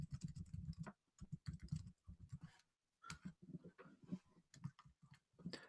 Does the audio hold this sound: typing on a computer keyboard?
yes